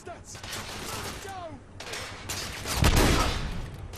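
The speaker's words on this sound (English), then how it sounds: "This rifle here. This is a pretty poor weapon." Rifle shots in The Order 1886 come in several sharp bursts with short gaps, the loudest crack near the end, set against a busy battle background and some talk.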